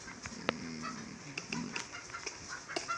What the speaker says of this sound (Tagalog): Ingay naman manok.